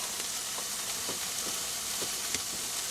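Rice with pear and soy sauce stir-fries in a hot pan, giving a dense, even hiss of sizzling with faint scrapes from the spatula, steady and close with no voices.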